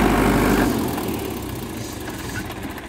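A diesel tractor engine runs just after starting at a village diesel-economy contest in Haryana, a loud steady rumble that eases slightly after the first moment and continues with no talking.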